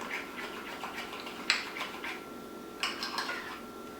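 A utensil stirs cake batter in a bowl, giving soft scraping swishes with a few sharper clinks against the side, close and fairly quiet with no talk.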